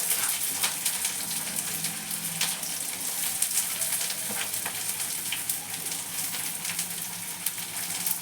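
Steady close sizzle of okra and chopped onion frying in a pan for an okra curry, a dense continuous crackle with faint stirring scrapes, no voices.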